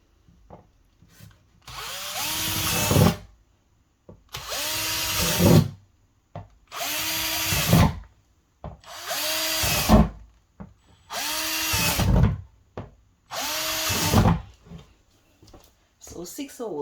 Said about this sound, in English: so I'm going to be putting holes in the bottom.